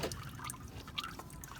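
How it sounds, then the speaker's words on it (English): Engine oil from the oil filter of a VW 1.8T drips and trickles into a catch pan beneath the car, a faint, steady liquid patter with a few small splashes, close and heard alone. "Remove the pan here to be able to catch that drip."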